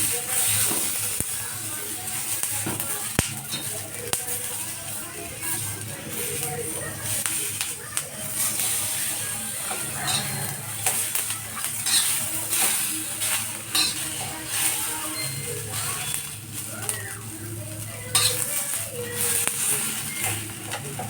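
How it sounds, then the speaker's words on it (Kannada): Peanuts and tomatoes roast in a pan with a continuous dry sizzle and scraping stirs throughout, loud and close, while a person talks over the cooking noise. "ಈಗ ನೋಡಿ ಶೇಂಗಾಕಾಳು ಮತ್ತು ಟೊಮೆಟೊ ಹಣ್ಣು ಎರಡೂ ಹುರ್ಕೊಳ್ಳೋಣ."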